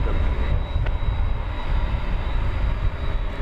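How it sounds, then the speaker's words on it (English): An American Airlines jet takes off from runway 18 left at DFW Airport, a steady, loud low engine roar that holds throughout with no voices. "Take off 18 left, RNF American 147"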